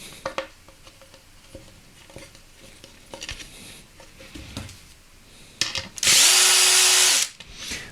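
A power drill drives screws into 3D printed parts for a CNC machine, a single loud steady whir of about a second following scattered close handling clicks and clatter.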